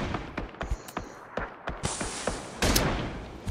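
Gunfire in PUBG: Battlegrounds, a rapid string of sharp close shots and impacts cracking in quick succession, loud and up front, with a brief rising burst of noise near the end.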